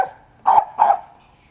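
A young Dalmatian-mutt puppy gives two quick, close, fairly loud barks in succession, with a quiet background.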